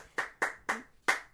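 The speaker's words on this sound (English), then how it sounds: "Big round of applause for Mr. Hal Sparks." A few hand claps greeting Hal Sparks, four sharp evenly spaced slaps in quick succession. They sound quiet and close, like one person clapping rather than a large crowd.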